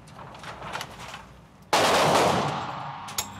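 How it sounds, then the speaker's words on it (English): A single sharp handgun shot fired during police recruit firearms training, a loud sudden crack with a ringing decay, followed by a fainter click, with quiet background beforehand. "You will draw and fire 1 round in 2 seconds."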